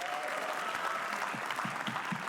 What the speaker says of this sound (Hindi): एक बार ताली बजाओ यार तुम लोग।